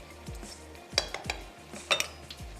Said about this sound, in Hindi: दही ऐड करते ही अच्छा सा एक मिक्स दे देते हैं